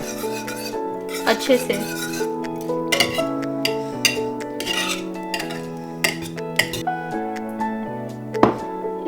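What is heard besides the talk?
mixing samosa chaat with green chili sauce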